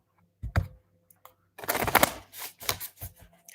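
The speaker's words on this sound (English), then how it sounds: "let me shuffle this one for you" Tarot cards shuffled close up: a couple of brief taps, then a dense papery riffle followed by several softer flicks and slides, quiet with no voices.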